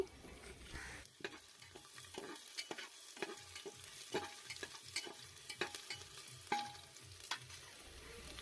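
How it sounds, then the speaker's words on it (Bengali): Chopped ginger frying over medium heat in a pan for chicken stew, stirred with repeated scraping strokes over a steady low sizzle, close and quiet, no voices. "তো আমি আদা কুচিগুলো দিয়ে দিলাম, এটা একটু নেড়ে চেড়ে নেব।"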